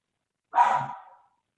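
A single dog bark, sharp onset and short fading tail, heard alone and fairly close in a quiet room.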